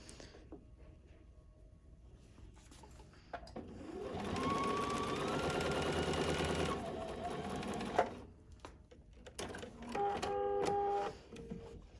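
A sewing machine stitches a quilt block in a steady run of a few seconds, with quieter handling noise before and brief mechanical clicks and whirs afterward.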